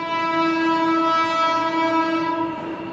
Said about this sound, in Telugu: ట్రైన్ కూడా వస్తుంది కదా.